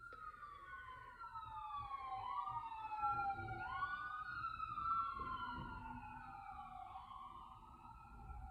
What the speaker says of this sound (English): And I get that siren as confirmation.